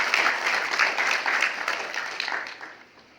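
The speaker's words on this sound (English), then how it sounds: "Let's clap hands for ourselves as Malawi" An audience at the opening ceremony of an arts and book festival in Malawi breaks into full applause that fills the room and then tapers off toward silence over a few seconds.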